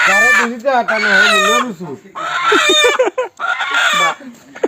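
Chickens cluck and squawk loudly up close in a run of bursts, with short breaks between them.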